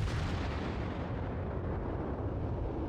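Heavy battleship gun fire in World of Warships, the Japanese battleship Fuso firing salvos at a Cleveland cruiser: a dense, sustained rumbling roar of cannon blasts that fills the clip at steady loudness with no talk.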